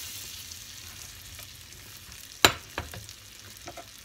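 Almonds sizzling in butter in a pan, a low steady fry with one sharp clack and a few lighter knocks near the end, close and quiet.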